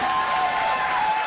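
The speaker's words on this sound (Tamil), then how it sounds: "ஒரு ராக்கிங்கான பெர்ஃபார்மன்ஸ் கொடுத்தவங்க எல்லாருக்குமே முதல்ல ஒரு கைத்தட்டல் கொடுத்துடலாமா?" An audience claps for dance performers at a Republic Day dance show, a dense, steady wash of applause throughout the brief moment.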